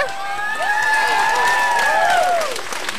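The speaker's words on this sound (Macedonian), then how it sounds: "Аплауз за Весна." Brief burst of audience applause and cheering for a performer at a school event, with bright whistling and shouted voices sweeping over a dense clapping wash.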